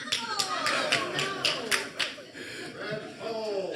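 A short burst of audience clapping at a residents association meeting, a scatter of claps that fades, with a voice talking underneath.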